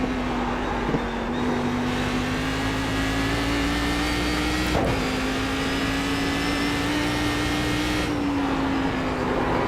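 Race car engine in the sim racing game iRacing, road course, holding a steady droning note that climbs gently as the throttle opens, loud and continuous with no talking.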